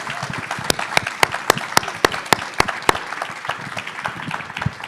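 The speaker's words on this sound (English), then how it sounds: "I'd like a big nor'easter round of applause for our panelists." Audience applause for panelists at a climate education event, a steady crowd clapping with sharp individual claps standing out in a fairly even rhythm.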